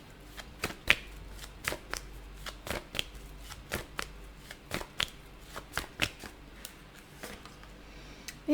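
Tarot cards are shuffled in a steady run of crisp riffling snaps and flicks, close and fairly quiet, with no talking over them.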